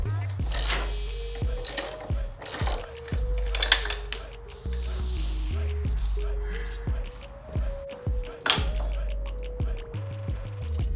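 A hand ratchet clicks rapidly in repeated strokes while backing off a bolt during a motorcycle chain and sprocket install, close and crisp with short pauses and metallic clinks between runs.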